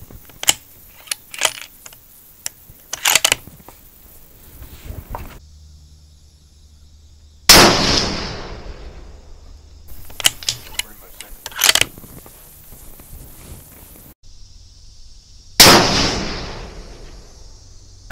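Two loud, sharp reports from a .308 rifle firing Federal Fusion 165-grain ammunition at a 100-yard range test, each followed by a ringing decay and spaced about eight seconds apart, with scattered clicking handling noises before and between shots.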